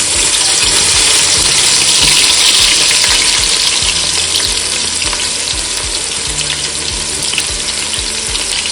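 Chopped onions and green chillies frying hard in hot oil in a pan, a loud, dense, continuous sizzle that stays steady throughout with no voices.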